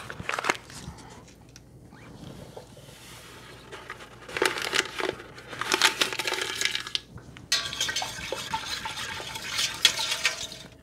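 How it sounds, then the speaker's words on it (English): Certo pectin crystals poured into wild grape juice in a pot and whisked in, with bursts of granular rattling and splashing liquid scraping that come and go in waves, close and fairly loud. "Now I'm going to pour in my Certo pectin crystals and whisk those in."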